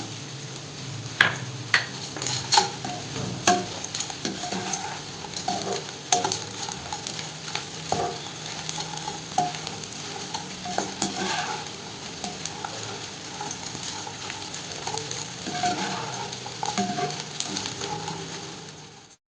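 Edible gum (dink) frying in ghee for a winter dry fruit ladoo, a steady close sizzle with crackling pops and occasional stirring clinks, continuous for the whole stretch.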